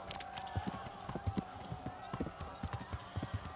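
A horse in the medieval video game Kingdom Come: Deliverance 2 clops along on hooves in an uneven, repeating rhythm. The hoofbeats sound close and moderately loud over a faint background hum.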